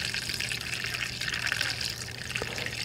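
Fluid pours and gushes steadily during the restoration of a 1965 Honda CB450 K0 Black Bomber motorcycle, a continuous watery hiss and splash at moderate level with a low hum underneath.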